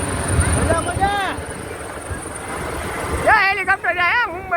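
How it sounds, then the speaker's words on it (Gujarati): A helicopter flies over Mumbai, heard as a steady, broadband rumble that runs through the whole stretch beneath excited voices talking and calling out. "જા હેલિકોપ્ટર જાય મુંબઈ"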